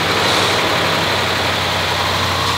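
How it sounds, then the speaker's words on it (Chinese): A 2011 Land Rover engine idles steadily after a repair, a loud, close, even rumble with a low hum and no change in pace, no voices. "一切准备就绪，小哥第五次打火启动。"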